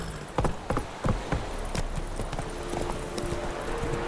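Horse hooves trot in clip-clop rhythm in The Witcher 3, with a steady run of sharp hoofbeats early on, then a softer continuing gait under a low, steady hum.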